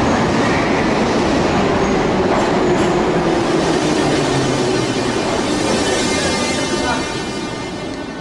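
A metro train runs through the Yerevan subway with loud, continuous rumbling and rattling of wheels on track, a dense roar that holds steady and eases slightly near the end.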